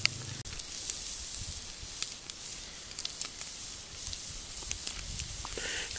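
A can of bologna fries in a pan over a wood fire, a steady close sizzle with scattered pops and crackles running throughout.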